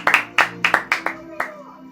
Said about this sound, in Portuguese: com as palmas para Jesus